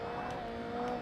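Steady tonal car tire scrub in Forza Motorsport, a continuous whining hum over engine drone with no pauses.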